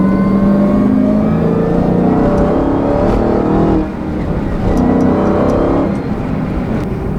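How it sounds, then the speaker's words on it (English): A supercharged 2016 Dodge Challenger Hellcat with a six-speed manual accelerates hard, its engine roaring loud and close with a rising pitch, then a short dip as it shifts gear before it climbs again. "it starts to accelerate with zero lag"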